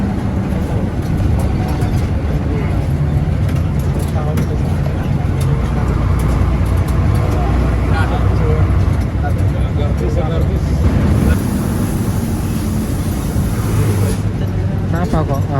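Sinar Mandiri Mulia intercity bus on a trip out of Surabaya, its engine roaring loudly as the driver accelerates hard: a dense, continuous low drone with road noise, and someone talking over it.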